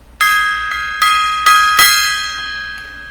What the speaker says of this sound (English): Gong time there.